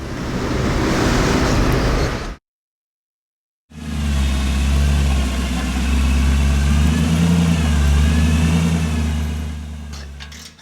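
Ram diesel pickup truck running on a dyno with propane and nitrous, engine revving loud and close in a sustained roar, cut off by a brief silence before a second long pull.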